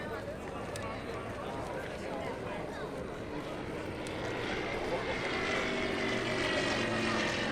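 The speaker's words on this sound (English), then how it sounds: "the second pair of aircraft approach show centre for a split" A pair of aerobatic aircraft approaching show centre at an airshow in Sichuan: a loud, sustained engine roar that grows stronger as they near, heard under commentary.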